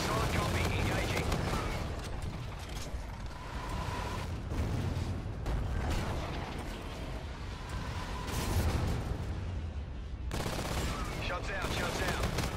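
Dense, continuous automatic gunfire in the first-person shooter Call of Duty: Infinite Warfare during team multiplayer combat, loud and sustained with overlapping bursts and explosions and only brief lulls, with voices talking underneath.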